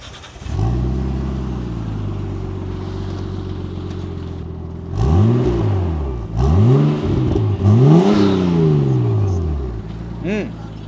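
A Nissan RB-engine wagon with an aftermarket front pipe idles, then revs sharply several times, pitch climbing and falling with each blip, with a high turbo whine riding on top.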